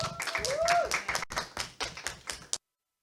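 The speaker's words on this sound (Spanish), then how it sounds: "de fe que está a cargo de Gabriela Villegas, para quien pido un fuerte aplauso." A small group applauds at a Catholic talk-show event, giving a short burst of distinct, fairly close claps that thins out and then stops abruptly. A brief whistle-like tone sounds near the start.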